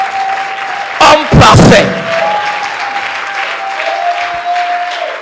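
A church congregation bursts into applause during a sermon, a short loud burst of clapping lasting under a second before the preacher's amplified voice carries on over a sustained tone.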